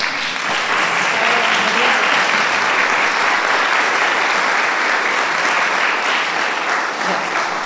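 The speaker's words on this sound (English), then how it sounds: "I would like to surround with applause for the music" Sustained audience applause after a music performance, a dense even wash of clapping from a crowd lasting several seconds without pause.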